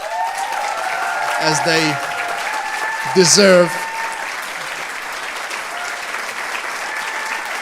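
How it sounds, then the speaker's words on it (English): A crowd applauds steadily at a graduation ceremony, dense clapping filling the room while a speaker's voice cuts in twice over it, then the ovation carries on alone. "a big round of applause."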